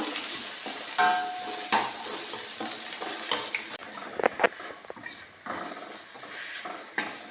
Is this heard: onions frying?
yes